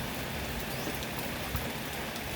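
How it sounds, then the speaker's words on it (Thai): Rain falls steadily around a farmhouse in the early morning, a close, even hiss of drops spattering on surfaces with no voices. "ฝนตกนะคะ ทั่วเลยนะคะ"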